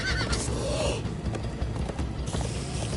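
Horses neighing in a PS4 video game: a loud, close whinny rises and falls over steady hoofbeat clatter and low rumble, with no talking.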